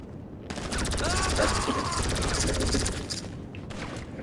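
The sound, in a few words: cover fire gunshots in video game GTA 5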